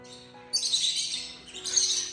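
Newly hatched young birds chirping in high, bright bursts, a short run of tweets then a second cluster, close and fairly loud over a faint steady hum.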